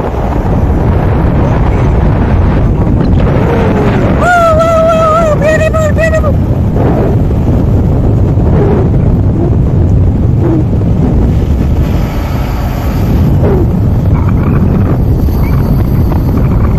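Heavy wind buffeting a microphone in the back of a moving truck, a loud constant roar with brief whistling tones partway through, and faint voices underneath.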